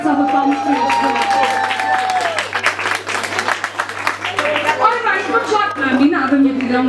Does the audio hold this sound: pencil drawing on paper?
no